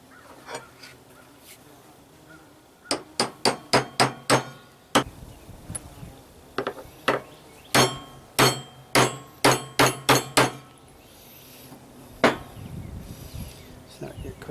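A seal being driven into an Evinrude 30 outboard lower unit with a socket and hammer, sharp metallic blows in quick bursts, some clustered rapidly and others spaced apart, with faint talk in the background.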